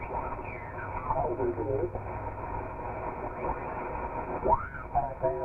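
A Ten-Tec RX-340 radio receiver is tuned across stations, with whistling heterodyne sweeps and swooping tones over band noise and snatches of garbled voice transmissions, in a narrow band-limited sound.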